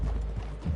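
Muffled hooves clop a few times at an unhurried pace at the edge of a wooded clearing, faint and low under a dull rumble of background noise.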